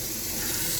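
Tap water runs steadily into a jug during an aquarium water change, a continuous broad splashing hiss with no voices.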